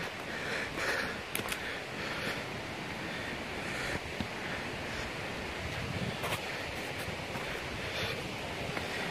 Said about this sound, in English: Can you hear the falls? Can you hear the water rushing?